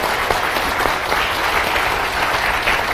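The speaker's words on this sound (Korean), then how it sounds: "박수 부탁드리고요" Dense, steady applause from an audience at a youth town-hall discussion event with political leaders, many hands clapping close and loud throughout without pause.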